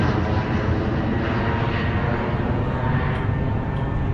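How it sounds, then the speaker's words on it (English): A fixed-wing airplane flies overhead above a bike path along the South Portland, Maine waterfront, a steady broadband engine roar that holds level and fairly loud through the whole stretch, with no voices. "oh, there's a plane."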